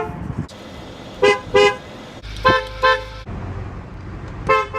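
A Saab car horn, several short honks in pairs, loud and close over a low idling background.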